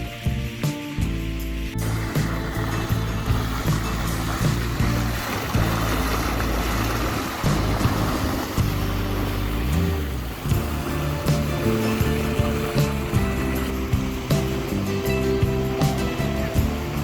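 A sailboat with its mainsail down motors through waves on a crossing from Sweden to Denmark. Rushing water and wave wash blend with a steady low engine hum, continuous and fairly loud, with no voices.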